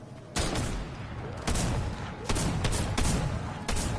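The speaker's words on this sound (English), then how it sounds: "That's a drum shotgun." A drum shotgun firing in Fortnite, with several loud, booming blasts spaced irregularly over a constant background of game noise, some shots landing in quick succession.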